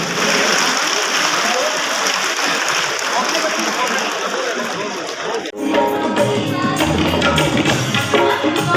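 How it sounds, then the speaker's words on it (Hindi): Applause from an audience at a government ceremony honouring ministers at a Ganga water supply inauguration, a dense steady clapping that fades and gives way to quieter crowd sounds and a voice. "माननीय उप मुख्यमंत्री जी को और माननीय मंत्री विजय कुमार चौधरी जी को स्मृति चिन्ह में जोरदार ताली आप सबकी ओर से।"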